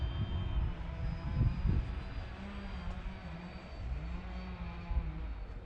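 T-28 and Spitfire warbirds flying past overhead at a Veterans Day event, a steady droning piston engine roar with shifting pitch, moderately loud and continuous.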